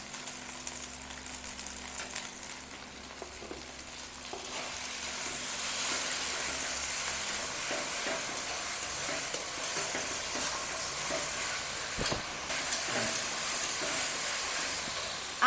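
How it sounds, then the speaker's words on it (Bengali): Paste of ground chilli, ginger and cumin fries in hot oil for Bengali mutton kasha, a steady loud sizzle with scraping stirs that grows denser midway, no talk. "আমাদের মশলা কষানো হয়ে গেছে"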